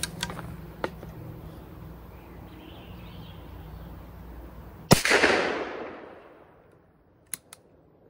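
A Stevens Model 940 single-shot .410 shotgun fires one sharp, loud blast outdoors with a quick fading tail, after a few faint clicks and a couple of light taps near the end.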